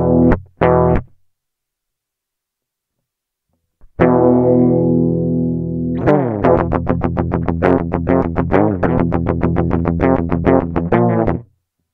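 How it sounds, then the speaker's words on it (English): An electric guitar plugged straight into a sound card plays a couple of short plucked notes, then a sustained chord followed by fast, loud, repeated palm-muted riffing, heard alone and close. "This is my guitar right into my sound card"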